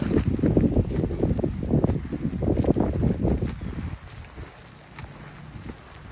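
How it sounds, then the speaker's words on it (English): Strong gusts in the aftermath of Hurricane Ian roar and buffet the microphone loudly for about four seconds, then ease to a lower, steadier rush. "we got gnarly winds in here"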